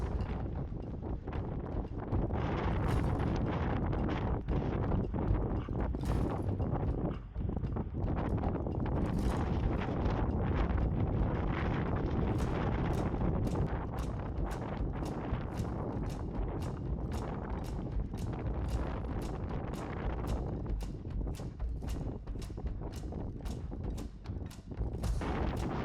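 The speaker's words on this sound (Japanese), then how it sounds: "風が強すぎて進めないので止まっていたら突風が吹いてきました。" Strong, roaring wind gusts of around 20 m/s on an exposed winter ridge of the Central Alps, buffeting the microphone in sustained waves with sharp repeated crackles of wind noise, loud and close throughout.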